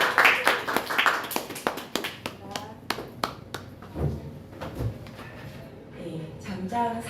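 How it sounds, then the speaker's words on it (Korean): A small lecture audience claps to welcome the speaker at a health seminar, with a burst of distinct, close hand claps at an uneven rhythm that thins out after a few seconds, followed by speech. "큰 박수로 모시겠습니다"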